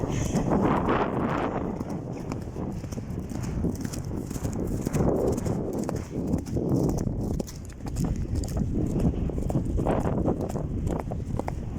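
Horses gallop over open ground, their hooves drumming in a rapid, continuous rhythm for the whole stretch, with gusts of wind buffeting the microphone.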